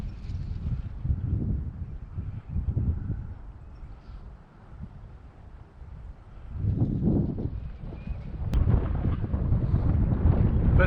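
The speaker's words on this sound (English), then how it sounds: "It's been windy all week." Steady wind buffets the microphone beside a DragonForce 65 RC sailboat racing on the water, low rumbling gusts swelling and easing, with stronger sustained blasts in the second half.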